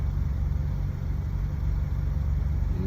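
A deep, steady Bentley V8 engine rumble idling nearby, low and throaty with a constant hum and no speech.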